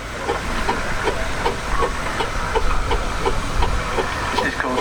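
The steam engine Tiger, built in 1920, runs at the St Albans steam and country show, giving a steady rhythmic chuffing over a constant hiss and rumble, fairly close and continuous.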